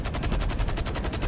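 Machine gun fire in the GTA video game, a fast, continuous stream of loud, evenly spaced shots that rattles on steadily without a break.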